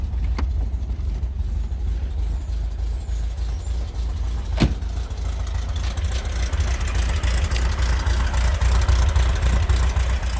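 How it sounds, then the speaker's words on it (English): A Volkswagen engine idles steadily in neutral with a low, slightly uneven, lumpy-sounding rumble, close and continuous, with a brief click partway through. "Sounds like it's got a lumpy cam, but it does not."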